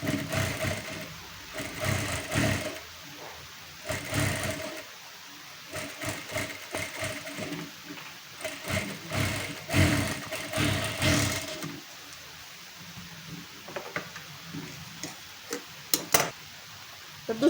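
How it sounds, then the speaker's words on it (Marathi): A sewing machine runs in bursts while stitching a narrow folded edge on blouse fabric, with steady mechanical whirring and ticking that starts and stops, close and fairly loud. "नंतर आपल्याला वळवून अनेक साईडला, म्हणजे ह्या साईडला आपल्याला टीप मारून घ्यायची आहे."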